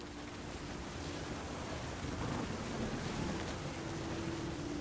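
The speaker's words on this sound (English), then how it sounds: "The thunder sounded much too close and full of angry power." Thunder in What Remains of Edith Finch rumbles low and steady beneath a constant wash of rain and wind, a broad continuous storm bed with no sharp cracks.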